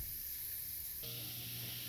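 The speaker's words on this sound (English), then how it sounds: "once the veggies have been sauteing for about 5 minutes" Bell peppers and mixed vegetables sautéing in a pan give a steady, fairly faint hiss and sizzle that grows brighter and denser halfway through, with no talking.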